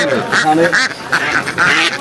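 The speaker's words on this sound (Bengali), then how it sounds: "ভাই তো অনেকগুলো হাঁস নিয়ে আসছে।" Many mature, large farm-raised ducks quacking in repeated bursts at a Bangladeshi village market, close and loud, with people talking over them throughout.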